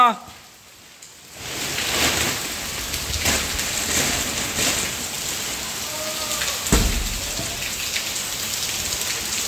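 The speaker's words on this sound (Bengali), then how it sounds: "প্রচুর পরিমাণ বৃষ্টি হচ্ছে, প্রচুর বৃষ্টি" Heavy rain pours down steadily on a farm, a dense continuous hiss after a brief quiet start, with occasional louder gusts of drumming on surfaces.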